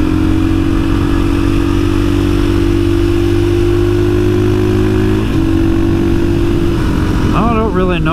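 A KTM 500 supermoto motorcycle drones loudly and steadily at close range while riding, its engine tone shifting slightly toward the end.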